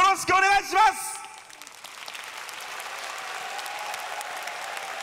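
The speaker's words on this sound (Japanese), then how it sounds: "会場でご覧の皆さん、改めてぜひ最後です、熱い声援をよろしくお願いします" A crowd in the arena at the Monster Strike Grand Prix 2024 Japan Championship finals breaks into dense, sustained applause and cheering, following a brief voice at the start and continuing steadily to the end.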